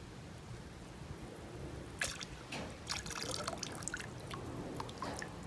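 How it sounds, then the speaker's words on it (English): Water trickling and dripping into a pot being readied for boiling to dye a wedding dress, heard alone and close with no talk, a steady liquid wash broken by sharper splashy drips and pours that come and go. "it was time to start boiling the water"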